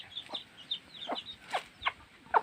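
Chickens on a rural farm near rice fields clucking in a string of short, sharp, irregular calls, several birds close by and moderately loud, with no talking.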